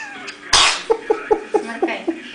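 A baby sneezes once sharply and close, then gives a quick run of small rhythmic sneezy huffs and squeaks in succession, loud and alone.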